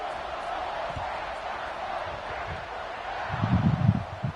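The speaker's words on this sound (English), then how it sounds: "Crowd is buzzing after that last score." A stadium crowd in the NCAA 26 college football video game keeps up a low, steady murmur that swells into a louder burst of cheering near the end.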